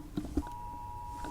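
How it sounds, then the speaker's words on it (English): Phone emergency alert for a flash flood warning sounding during a gaming match: a steady electronic tone holds for about a second, preceded by a couple of short blips, fairly faint under a low background hum. "Oh, my phone is going off. There's apparently a flash flood warning in this area or something."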